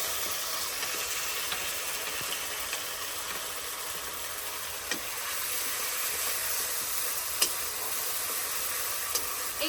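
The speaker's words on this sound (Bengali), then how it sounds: "এইদিকে এটা ভাজা ভাজা হতে থাক" Garlic paste and chopped tomato fry in hot oil with whole garam masala, bay leaf and dried chilli, giving a steady, soft sizzling hiss throughout with a few faint crackles and no voices.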